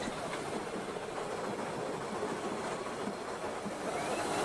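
A steam locomotive labours up a steep bank while pulling a train, a steady rushing hiss and rumble of exhaust and rolling wheels, moderately distant and continuous without voices.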